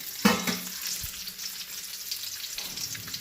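Onions fry golden in a pan for fish curry with a steady, moderate sizzle. It starts with a clattering stir, then the hiss continues and swells again toward the end. No one speaks.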